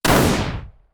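A single sharp gunshot cracks loudly and close, then its echo fades over most of a second, heard during a muddy Sunday League football match.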